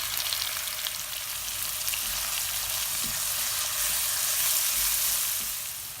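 Cumin seeds hit a hot pan for Mumbai-style pav bhaji and sizzle loudly and steadily, a close, continuous crackling fry with no talking.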